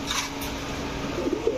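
Large orange chila pigeons coo softly in a short burst, a low murmuring warble from birds kept for sale, heard alone without speech.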